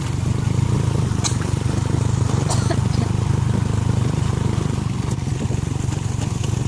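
A motorcycle engine runs steadily at close range with a constant droning, puttering idle, on the way to a waterfall in Bunog, Rizal, Palawan, with a few faint clicks over it.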